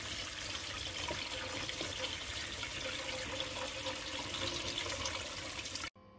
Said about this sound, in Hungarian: hideg vizet engedünk rá